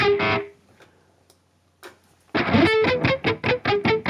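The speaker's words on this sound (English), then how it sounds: "you can hear maybe the amount of unwanted noise if you crank the tone" A heavily distorted electric guitar through a Valeton GP200 high-gain patch plays chugging, high-gain chords, with hiss and buzz audible in the quiet gap between riffs.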